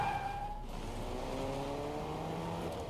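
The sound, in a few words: car driving in the video game Fortnite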